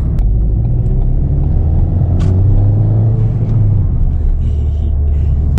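Ford Fiesta ST200 engine droning steadily while driving on a village road, a loud continuous low rumble inside the cabin with no talk.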